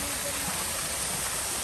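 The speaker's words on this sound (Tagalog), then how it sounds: "Nandito kami ngayon sa maliit na sapa." A small stream flows in a steady, rushing wash of water close by, briefly, with a faint voice underneath.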